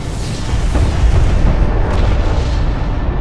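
A hostile interceptor explodes in Homeworld: Deserts of Kharak, a sustained deep rumbling blast that stays loud and roaring for several seconds, alone without speech.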